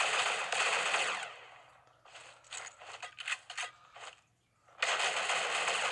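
Rapid automatic AK rifle gunfire in the Critical Ops mobile shooter: a loud sustained burst, then a run of short choppy bursts and a brief lull, before another long continuous stream of shots.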